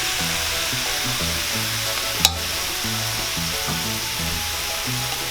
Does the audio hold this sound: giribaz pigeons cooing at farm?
no